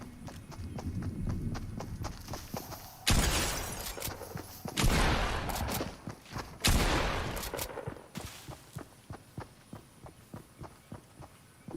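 Shotgun blasts in the video game Fortnite: three loud, broadband booms spaced a couple of seconds apart, set against a steady run of rapid clicking footsteps or movement sounds.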